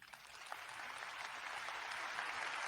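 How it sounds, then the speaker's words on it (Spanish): Studio audience applause on a Spanish-language show: a faint, steady wash of clapping that swells slightly as it goes on, with no talk over it. "Y vamos a darle un fuerte aplauso a Jesús Pillapol."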